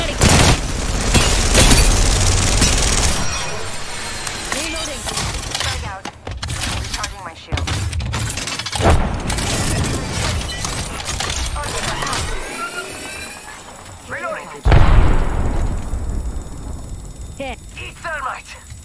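Apex Legends firefight with rapid automatic gunfire bursts and a sharp blast partway through, dense and loud game audio with a player talking over parts of it.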